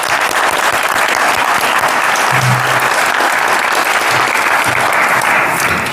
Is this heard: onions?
no